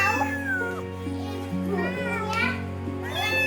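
Kitten that fell from a roof meowing repeatedly in short high cries, close by, with children and adults talking over and around it.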